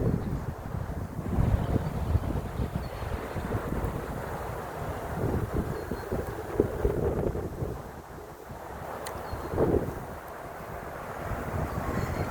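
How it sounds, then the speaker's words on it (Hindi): Steady wind blows outdoors in a cool breeze, a continuous broadband rush buffeting the microphone with gusts rising and easing, no voices present. "यहाँ पर ऐसे हवा चल रही है जैसे कि वो गर्मियों की होती है"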